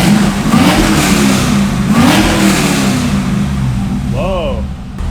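A Cadillac CTS-V V8 with Texas Speed headers and exhaust revs loudly up close in rising and falling swells over a deep rumble, with a brief voice near the end.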